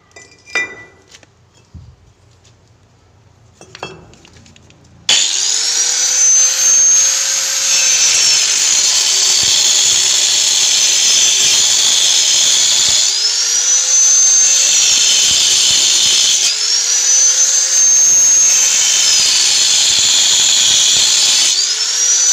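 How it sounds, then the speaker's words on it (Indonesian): An angle grinder cuts through stone while building stair railings, a loud, steady high whine running continuously after a quieter start, with its pitch dipping and recovering several times as the disc bites into the stone. "Kita potong lagi batunya dengan gerinda."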